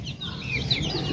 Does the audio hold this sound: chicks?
yes